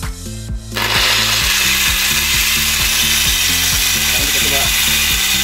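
A handheld angle grinder with its speed set by a dimmer switches on: a quiet start, then a sudden, loud, continuous whirring roar that holds steady, with rhythmic low background music underneath.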